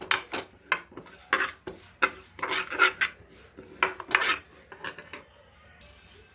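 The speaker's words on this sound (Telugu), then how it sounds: "ఈ నువ్వుల్ని దోరగా వేయించుకోవాలి" Sesame seeds dry-roasting in a pan on the stove are stirred with a utensil, giving a string of quick scraping, rattling strokes in an uneven rhythm, close and fairly quiet, with no talking.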